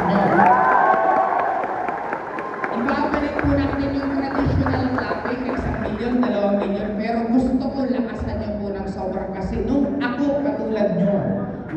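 A crowd at a motivational business event applauds and cheers, with clapping and shouts rising in a room while a voice talks over the noise throughout.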